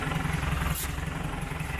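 A farm feeding machine's engine drones steadily and close with a rhythmic mechanical clatter as it drives into a silo.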